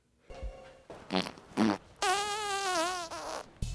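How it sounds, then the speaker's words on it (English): A series of close, blaring fart noises, short bursts followed by one long, wavering drawn-out blast, ending abruptly. "Was that a fart?"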